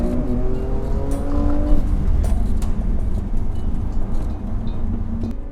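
Racing cars on a circuit pass at speed during a race, passing a car slowed by trouble; several engine tones sweep by at mid distance over a steady loud rumble, with no talk.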